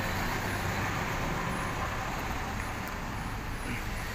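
Road traffic backs up where cars struggle to take a bend beside a creek bed in Kavakpınar neighbourhood: a steady, moderate rumble of engines and tyres, continuous and moderately distant.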